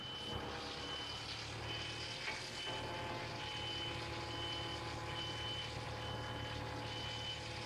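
Vaderstad Carrier seeder rolling off a truck: a repeating high reversing beep sounds at an even pace over a steady engine rumble, fairly faint and distant.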